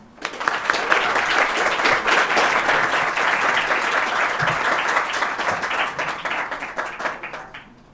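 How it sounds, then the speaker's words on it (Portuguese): Warm, sustained applause from an audience honoring a professor, with family members present: dense, steady clapping rises quickly, holds for several seconds, then thins out, and a few voices murmur underneath. "Uma salva de palmas para o professor."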